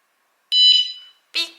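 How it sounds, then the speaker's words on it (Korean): A motorcycle anti-theft alarm on a Harley-Davidson Softail FX gives two short, loud electronic beeps after arming, the first longer and ringing, the second a brief chirp, in an otherwise quiet space. "삑 하면 그때부터 경보기가 작동을 하는 겁니다"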